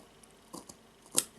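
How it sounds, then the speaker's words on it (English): Scissors snip through knotted friendship bracelet cords, a couple of soft close clicks followed by one sharper crisp cut, in a quiet room. "scissors and cut."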